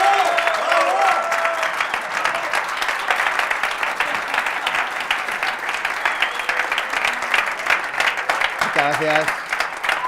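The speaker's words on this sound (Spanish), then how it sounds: "Señoras y señores, decíamos con un fortísimo aplauso al mago More." Loud, sustained audience applause for a magician, dense clapping filling the whole stretch, with a voice briefly speaking over it at the start and end.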